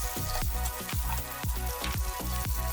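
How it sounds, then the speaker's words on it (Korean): Steady sizzling and crackling of onion, leek and fish cake stir-frying in an oiled pan, with regular scraping strokes of a utensil, close and continuous. "먼저 팬에 오일을 두르고 양파, 대파, 오뎅을 넣고 볶아줍니다."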